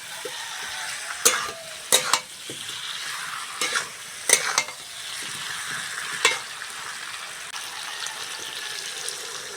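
Spiced masala frying in a pan for Bengali egg curry (dimer dalna), with water just poured in, giving a steady sizzle broken by several sharp spatula scrapes and stirs, close and moderately loud.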